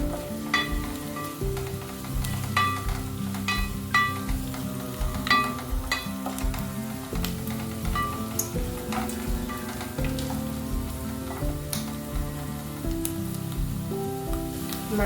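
Radish slices fry in a pan with a busy crackling sizzle, punctuated by frequent sharp pops and utensil ticks over a low steady hum, close and continuous.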